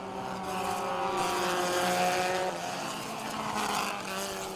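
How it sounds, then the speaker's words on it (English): Formula 4 race cars circulate behind a safety car at a national racing championship, and their engines make a loud, sustained, layered drone. Several cars can be heard passing, with rising and falling pitches, and no voices are heard. "So as the cars come through the final few corners behind the safety car."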